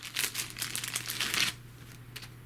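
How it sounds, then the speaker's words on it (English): A plastic bag from a Warzone Mishima miniatures box crinkles close up in quick bursts of crisp rustling, loud at first and then fading to a few faint rustles. "Have a plastic bag."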